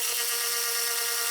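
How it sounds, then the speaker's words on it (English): A power tool whirs steadily while pulling a synchro slider assembly off a manual transmission shaft from a Camaro SS, a constant high, buzzy drone that is loud and close with no break. "Power tool for the win."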